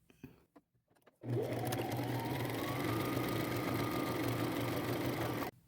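A sewing machine runs a straight stitch down a purse strap for a layered ruffle crossbody purse, a quarter inch from the edge. After a second of near quiet it starts up in a steady, close, continuous whir that holds for about four seconds, then stops.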